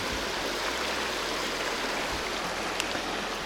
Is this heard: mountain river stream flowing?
yes